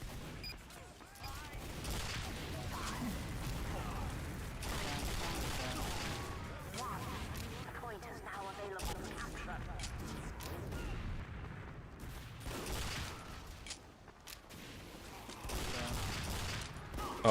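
Shortstop pistol gunfire in the video game Team Fortress 2, with rapid repeated shots and booming battle noise layered throughout, continuous and dense, with a person talking over it.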